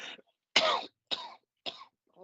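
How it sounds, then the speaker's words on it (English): A smoker's cough: three harsh, chesty coughs in quick succession, close and fairly loud, with a brief throat-clearing rasp just before them and silence between each burst. "this is a smoker's cough, I'm telling you now"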